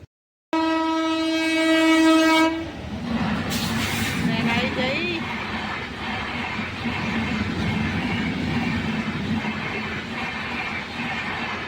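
A train passes a closed railway crossing: a loud, sustained horn blast opens, then the rumble and clatter of railcars rolling by continues steadily and close, with people talking over it.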